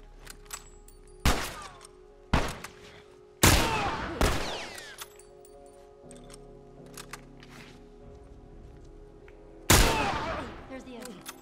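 Gunfire in The Last of Us Remastered: several sharp, loud shots at irregular intervals, some spaced apart and one echoing blast near the end, over a low ambient game hum.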